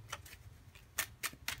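Playing cards are shuffled by hand, quiet and close, with several sharp riffling bursts and soft flicks spaced irregularly over a faint background hum.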